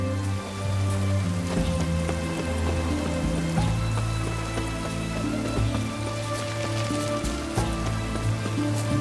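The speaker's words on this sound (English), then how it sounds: "Looks like rain." Rain falls in The Witcher 3 as a steady, dense patter spread across the whole stretch, mixed under sustained game music with low droning tones.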